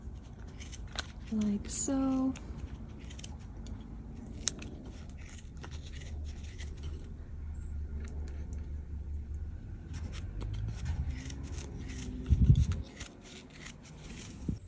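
Scissors snip through a 12 to 18 inch length of yarn for a pom-pom, giving a few short, close cuts early and another near the end, while a person talks quietly in between.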